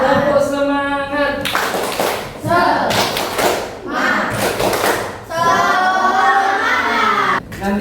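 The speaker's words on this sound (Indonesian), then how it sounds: "Tepuk semangat." A class of schoolchildren in a religious studies lesson performs a rhythmic spirit clap, with voices chanting in sing-song phrases broken by bursts of group clapping in a patterned beat.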